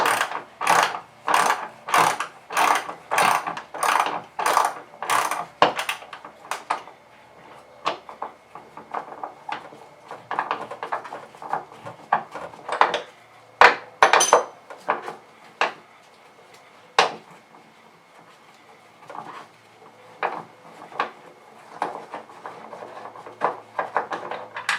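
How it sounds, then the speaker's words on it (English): A 12mm ratchet loosens a hood bolt on an NC MX-5 Miata. It clicks in quick, close, regular bursts, then gives sparser clicks and a few metallic knocks, with no talking. "I'm gonna use a 12mm and loosen up this bolt right here on the hood."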